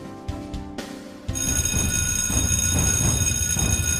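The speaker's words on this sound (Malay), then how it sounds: "ketenangan dan keceriaan waktu pagi dikejutkan dengan deringan loceng kecemasan yang membingitkan cuping telinga" An emergency fire alarm bell in a university faculty building starts ringing and keeps going loud and continuous, shrill and sustained, after quieter indoor sounds at the start.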